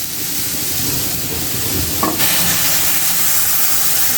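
Water and rice starch poured into greens cooking in a pan, giving a steady close sizzle and hiss with stirring, a brief splash-like change midway, with no talking.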